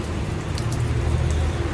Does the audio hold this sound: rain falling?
yes